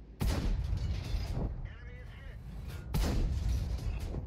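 A tank gun firing in World of Tanks from an AMX 50 100, with two loud close booms a few seconds apart, each with a rumbling tail, and a voice talking between them.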